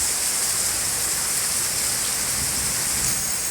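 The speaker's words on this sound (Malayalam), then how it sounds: "നല്ല സൂപ്പർ മഴ." Heavy monsoon rain on the coast at Thalassery pours down in a dense, steady roar. The close, continuous hiss has no pauses and no voices.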